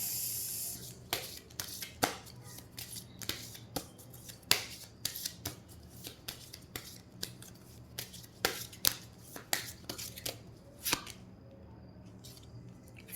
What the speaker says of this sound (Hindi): मैं 3 डेक्स से अलग अलग कार्ड निकालती हूँ